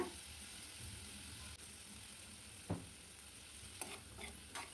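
Beef, capsicum and black pepper being stirred in a hot pan for a beef sizzling dish, producing a quiet, steady sizzle with a few scraping, clattering stirs, no talking.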